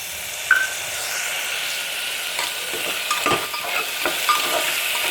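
Peas are stirred into betel leaf pulao in a pan, bringing a soft continuous sizzle with scattered scraping and clinks of the spoon against the pan, close up and with no talking.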